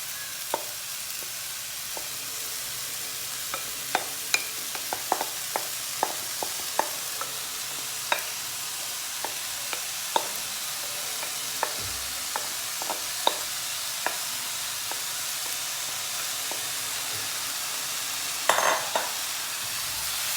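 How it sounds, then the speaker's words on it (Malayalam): Cooked banana flower being stirred into hot oil in a pan for a cutlet mixture, a steady soft sizzle under repeated scraping taps of a spoon against the pan, close and even throughout with a louder clatter near the end. "ചുണ്ട് ഇതിലോട്ട് ചേർത്ത് നന്നായിട്ട് മിക്സ് ചെയ്തെടുക്കണം."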